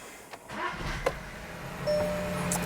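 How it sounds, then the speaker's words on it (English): A Volkswagen with a DSG gearbox starts up: quiet cabin rustle and small clicks give way to a rising engine hum as it catches, ending in a brief louder burst, heard close from inside the car. "Now let's start the car."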